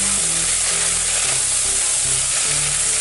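Coriander and mint leaves sauté in a pan for a vegetable biryani, giving a steady close sizzle with a faint low clatter underneath.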